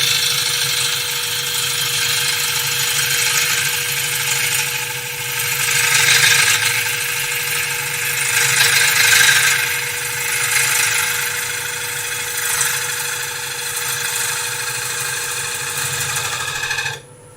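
A wood lathe spins a bowl blank while a hand tool cuts a relief carving into it, giving a steady motor hum with a scraping, swelling cutting noise that rises and falls in waves, close and fairly loud.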